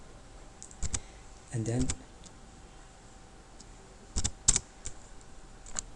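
Computer keyboard keys clicking in short bursts while HTML code is typed, quiet taps spread across the stretch with a brief spoken phrase in between.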